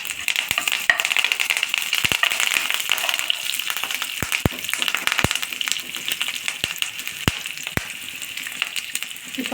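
Green chillies, peanuts and curry leaves fry in a pan for sabudana khichdi, giving a steady, loud sizzle with scattered sharp pops and crackles throughout.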